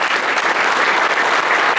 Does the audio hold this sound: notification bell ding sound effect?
no